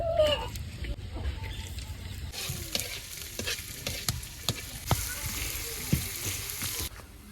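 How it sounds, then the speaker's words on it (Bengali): Hot oil sizzles loudly in a wok in a village kitchen as chopped ingredients go in for tomato chutney, a steady frying hiss with stirring clatter and hens clucking in the background. "কড়াই গরম হয়ে গেছে, তেল দিয়ে দিলাম"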